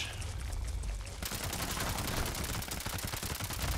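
A fast-firing weapon in Fallout 76 unleashes a dense, steady stream of rapid shots, rattling continuously for several seconds after a brief hissy lead-in, loud and close with no talk.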